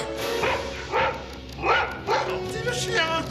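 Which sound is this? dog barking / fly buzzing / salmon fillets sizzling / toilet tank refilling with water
dog barking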